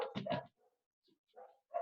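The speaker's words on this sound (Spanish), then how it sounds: "un perro está molestando por ahí" A nearby dog barks in a close double burst, then gives fainter yips and another short bark, with quiet gaps between them.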